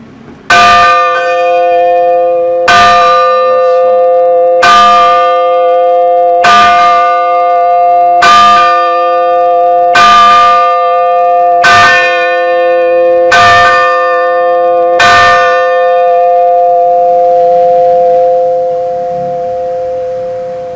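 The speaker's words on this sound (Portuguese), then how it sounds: "E olha só todo o sistema dos sinos" A church bell tolls nine times at a slow, steady pace, loud and ringing, each strike left to hum before the next, at the Santuário do Imaculado Coração de Maria in Pouso Alegre, Brazil.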